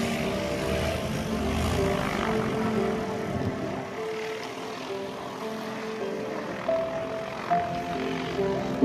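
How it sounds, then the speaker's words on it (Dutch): Steady drone of a propeller airplane engine at an airshow, loud and continuous with a rough, throbbing tone that swells slightly near the end. "laten de Belgen nog één keer horen dat ze een motorvliegtuig hebben"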